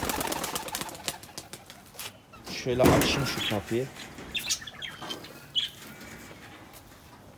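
Tumbler pigeons in a coop give soft coos and chirps, with a brief burst of wing flapping near the middle, while someone talks close by throughout.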